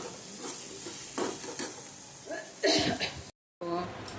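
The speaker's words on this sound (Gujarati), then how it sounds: "આ ડુંગળી એટલી અડધી સતળાઈ જાય, અડધી ઓલી રાખવાની" Onion sautéing in a pan for ulta vada pav, heard as close frying sizzle with stirring scrapes and spoon knocks, broken by bursts of louder activity and a brief cut to silence near the end.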